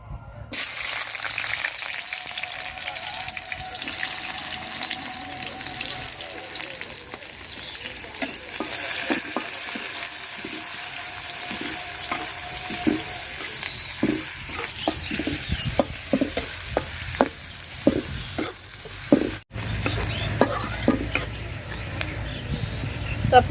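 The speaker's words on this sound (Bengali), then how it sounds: "তেল গরম হয়ে গেছে, পেঁয়াজ দিয়ে দিলাম।" Onions frying in hot oil in a cooking pot produce a loud, continuous sizzle with many scraping clicks of a spoon stirring, growing busier toward the end; a voice talks briefly over it.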